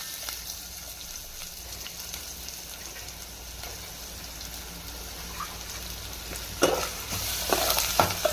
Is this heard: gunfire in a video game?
no